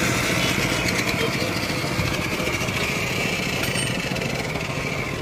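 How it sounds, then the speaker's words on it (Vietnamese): A 670 W electric grinder running off a standalone 320 W solar panel system mounted on a car, giving a steady, loud motor whine with constant buzzing throughout, close by, with speech partly over it. "Đây, chú test cái máy mài này."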